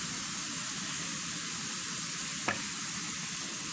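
Carrots fry in oil to make carrot oil, giving a loud, steady, close sizzle with a dense hiss throughout. A single brief clink or crackle stands out partway through.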